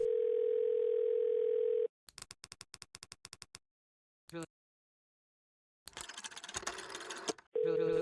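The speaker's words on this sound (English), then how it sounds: "Hey Mano, I tried calling earlier, but I don't think you were at the phone" A steady telephone dial tone in the video game Dead Plate, alone and loud, then cut off by rapid dialing clicks and a burst of noise before the tone returns.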